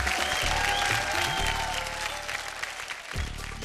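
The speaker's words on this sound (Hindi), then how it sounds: "तो जोरदार तालियां हमारी दोनों मॉडल्स के लिए।" Studio audience on a TV makeover show applauding two models, a loud, dense burst of clapping that holds strong before easing and dipping near the end, then swelling briefly again.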